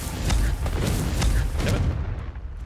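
Fire spell explosions in a Hogwarts Legacy video game, a series of loud booming blasts and crackling bursts that fade out toward the end.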